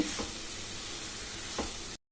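Grated raw mango fries in ghee in a kadai, a steady close sizzle with two soft scraping stirs of a spoon before it cuts to silence.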